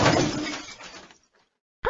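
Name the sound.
cricket ball shattering a thin glass pane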